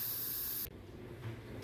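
Steam hisses loudly and steadily from an Instant Pot's pressure release valve, then cuts off abruptly partway through, leaving a faint residual hiss and low kitchen background.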